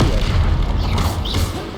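Incendio fire spell being cast in Hogwarts Legacy combat, a loud deep booming rumble with a whooshing burst partway through, close and continuous across the moment.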